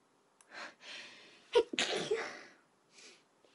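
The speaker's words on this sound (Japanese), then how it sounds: "くしゃみが出そうでやんす。" A single close sneeze: a few quick breathy inhales build up, then a sharp explosive burst, followed by a faint breath afterward.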